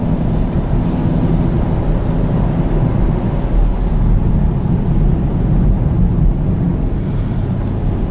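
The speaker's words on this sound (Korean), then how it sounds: "고출력 엔진이다 보니까 살짝 밟아도 으르렁거리 소리가 나죠" A Chevrolet Camaro SS high-power engine growls in a deep, steady rumble throughout while driving on a snowy road, with constant road and wind noise and no talking.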